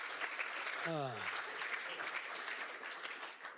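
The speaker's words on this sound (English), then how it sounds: "you can applaud" Audience applause at a talk on liberty and America's 250th anniversary, a steady, moderately quiet patter of clapping, with a brief voice rising and falling over it early on.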